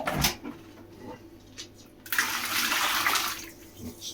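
Boiling water is poured into a bucket to dissolve a bag of sugar for elderflower champagne. A few short splashes come first, then a steady, rushing pour of about a second and a half that fades out.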